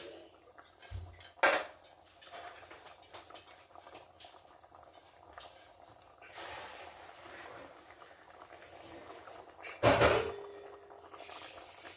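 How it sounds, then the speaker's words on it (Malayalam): Eggs go into a pot of water while an egg curry is being cooked: two distinct clunks with splashes, one early and one near the end, separated by a quiet stretch of soft kitchen noise and no talk. "അതിൻ്റെ ഇടയ്ക്ക് ഞാനിത് മുട്ട അങ്ങ് വെള്ളത്തിലോട്ടിടാം"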